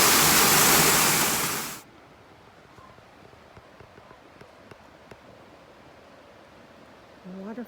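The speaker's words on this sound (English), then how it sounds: "Waterfall and a view." Apple Orchard Falls, a Virginia waterfall, roars as a loud, close, full broadband rush for nearly two seconds, then drops away to a faint distant hiss with a few small clicks and a brief voice at the end.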